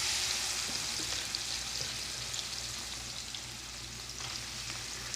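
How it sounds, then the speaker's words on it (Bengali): Crab fish sizzle softly in a little oil, a steady bright crackle of frying that stays fairly quiet and even throughout, with no voices. "এই যে মাছ এখন ভাজা লইম, হালকা তেলে ভাজা লইম"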